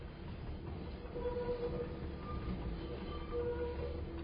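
Paris Metro train running through a tunnel, a steady low rumble and rolling roar with faint squealing tones from the rails, continuous and moderately loud with no talking.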